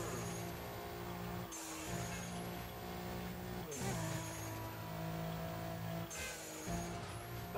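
A turbocharged car with a Porsche-like front end races in Burnout Paradise, its engine droning loud and steady through repeated gear shifts, each climb ending in a rising high turbo whistle.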